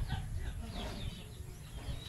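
Chickens in a backyard farm coop, soft low clucking and murmuring close by, faint and continuous over the short moment.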